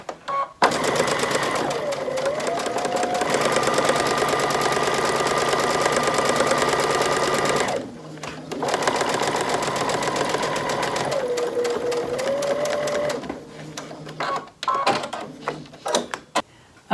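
A sewing machine stitches around the edge of a fabric origami pouch, running steadily and close for long stretches with brief pauses and shifts in motor pitch, then short bursts near the end.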